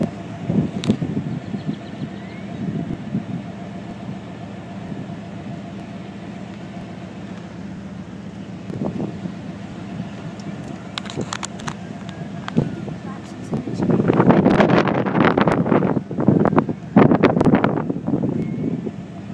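Wind rumbles and buffets a microphone outdoors in West Texas near the site of an ammonia explosion, a steady low roar that swells into stronger gusts toward the end.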